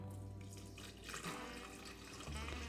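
Room-temperature water poured into the back reservoir of a Cuisinart coffee maker, a faint, steady trickling and splashing stream with a low hum underneath, no talk.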